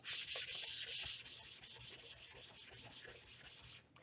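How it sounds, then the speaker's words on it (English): Rhythmic rasping strokes of a bass guitar nut from a 1988 Washburn Force ABT B-20 rubbed back and forth on fine 320-grit sandpaper, close and fairly quiet, repeating steadily with no talking. "doing a little bit more of the sanding here"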